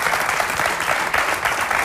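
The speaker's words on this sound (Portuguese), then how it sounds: "Muito bem, um aplauso." Applause from the audience of a televised fado show as a Portuguese guitarist is introduced, a brief burst of dense, even clapping close and fairly loud.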